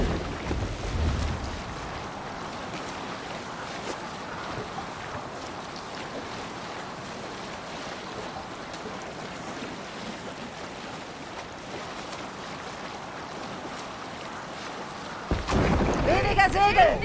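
A Viking longship under sail in Assassin's Creed Valhalla moves through waves and wind, a steady rushing wash of water and air throughout, with louder splashing and a voice at the start and end.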